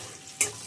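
Whole spices of bay leaf, cinnamon, cardamom and cloves hit hot oil, giving a brief sharp burst of sizzle midway through a quiet moment, then a low fading crackle.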